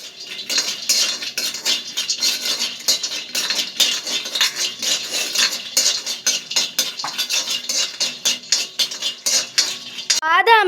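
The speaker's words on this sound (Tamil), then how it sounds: "அடுத்ததாக வேர்க்கடலையும் பாதாமையும் வறுக்க வேண்டும்." Peanuts and almonds are dry-roasted in a pan, a metal spoon stirring and scraping them in a busy, continuous rattle of nuts and clinks against the pan, close up, with a brief higher squeak near the end.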